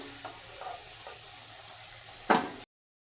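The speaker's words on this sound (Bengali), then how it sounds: "এই তোলে কটা বড়ি ভেজে নিলাম" Bori lentil dumplings frying in oil in a pan, a soft steady sizzle with a few faint taps, then one louder burst of clatter near the end before the sound cuts off.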